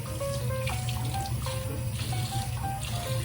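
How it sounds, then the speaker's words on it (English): Water runs from a tap into a can holding leftover tomato puree, a steady close splashing and gurgling stream with bubbly ringing tones, continuous and alone. "I poured my water right into the can,"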